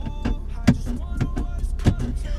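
The gear selector of a silver BMW M3 F80 is flicked back and forth, producing a quick series of about five close, sharp plasticky clicks inside the car cabin.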